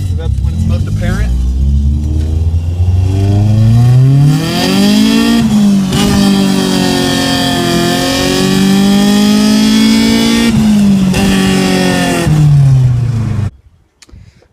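A manual Honda Civic pulls away from a stop and shifts from first into second with a slipping clutch, its engine revving in long rising and falling sweeps, loud and close, before cutting off near the end.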